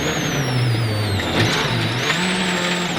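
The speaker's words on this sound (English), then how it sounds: "He's managed to keep the car on the road and calmly flicks the C4 into a full 360." A Citroën C4 rally car spins a full 360 on a muddy road at Rally Wales Great Britain 2010, its engine loud and close, revving up and down as it pivots, with a rising and falling whine.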